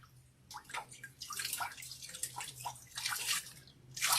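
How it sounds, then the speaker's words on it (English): Splashing cold water rinsed over a face by hand, a series of close, uneven wet splashes and drips building in bursts, with a steady low hum underneath and no talking. "I'm gonna rinse my face with cold water"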